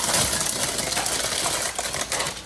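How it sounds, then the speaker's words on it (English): Knife repeatedly chopping peppers on a cutting board during budget meal prep, a steady rapid tapping rhythm of blade strikes, close and fairly loud with no talk. "So that requires for me to cut up the peppers."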